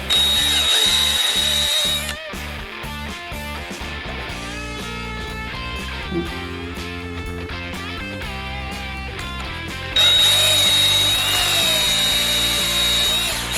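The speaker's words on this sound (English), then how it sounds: "it trims the blank to the length of the tube and squares it off" Power drill spinning a pen mill that trims and squares a pen blank to its brass tube, a loud whine cut by rapid chattering bursts of cutting, then a steady grind before the whine returns, close up with no talk.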